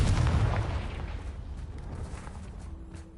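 A Confringo blasting spell in a Harry Potter video game goes off as a single loud, deep blast that rolls and decays over a few seconds, with no talk over it.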